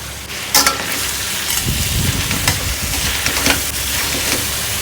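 Jackfruit pieces coated with turmeric and salt fry in oil in a kadai, giving a loud, steady sizzle and hiss with occasional stirring scrapes and bursts of crackling close by.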